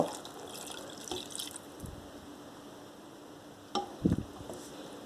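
Water, 200 ml, is poured into a homemade pork bolognese sauce, giving a soft, steady splash and bubbling with a few louder squelching bursts near the end. No one speaks.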